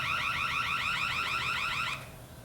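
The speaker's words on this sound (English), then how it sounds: "that's what happens when you trip the alarm" A factory alarm on a 2020 Dodge Challenger RT wails loudly in a fast, warbling electronic pattern of repeated tone sweeps, then cuts off abruptly near the end, leaving only faint low background noise.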